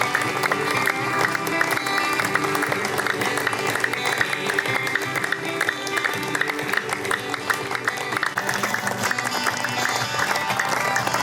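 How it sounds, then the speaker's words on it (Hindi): A group of people clap their hands together in a steady shared rhythm, loud and continuous throughout, with a voice faintly speaking over the clapping. "और थोड़ी ताकत बढ़ाए तालियों में, डरिए मत, अपना ही हाथ है।"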